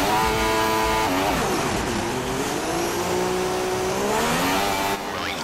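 Formula 1 cars rolling off at the start of the Austrian Grand Prix formation lap in the F1 2016 video game, a dense, close, continuous engine drone rising in pitch as several cars accelerate together.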